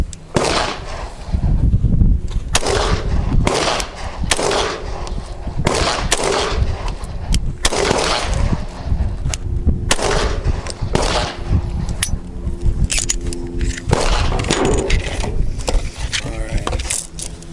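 Gunshots from a .357 handgun at an outdoor shooting session, sharp reports spaced irregularly over steady background noise, with people talking between shots.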